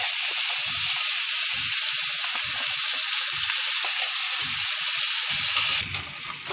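Spices sizzle and hiss steadily in hot oil in a kadhai for a besan pakoda curry, a loud, close, continuous frying crackle that softens near the end.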